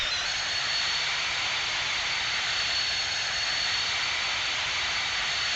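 A Boeing 737-200 jet in the X-Plane flight simulator gives off a steady, loud, hissing turbine roar that holds level throughout with no change in pitch or volume.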